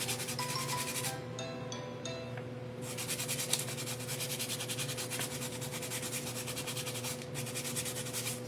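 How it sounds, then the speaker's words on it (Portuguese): Coarse sandpaper lightly scuffs a smooth Christmas plaque in steady back-and-forth rubbing strokes, close and continuous, with a short pause partway before the scraping resumes. "Aqui eu dou uma leve lixadinha. Então, eu pego uma lixa mais grossinha"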